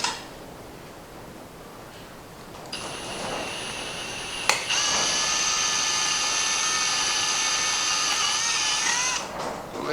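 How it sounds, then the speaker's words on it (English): A drill bores holes in parts of a CNC machine workstation frame, a high, steady motor whine that starts after a short quiet stretch, holds for several seconds, and then winds down. "go ahead and just drill these out"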